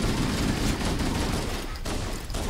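Rapid, dense gunfire from Halo: Combat Evolved rattles on without pause, a loud, continuous burst of shots filling the whole moment.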